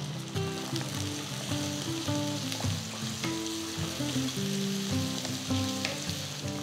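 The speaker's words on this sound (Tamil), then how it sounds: "நீங்கள் ஃப்ளேம் ஹைலியே வச்சு இந்த மாதிரி நீங்கள் வதக்கிக்கலாம்" Shallots and fresh garlic sauté in hot oil over a high flame for brinjal kara kuzhambu, giving a strong continuous sizzle and crackle with frequent metallic spatula scrapes, close and steady, with no speech.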